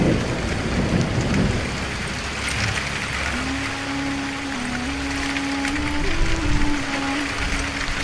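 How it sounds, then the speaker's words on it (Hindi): Cartoon-style heavy rain pouring continuously in a thick, hissing wash, with low rumbles that could be thunder and a faint sustained tone entering partway through. "बाहर यह बारिश कुछ ज्यादा ही तेज हो गई है।"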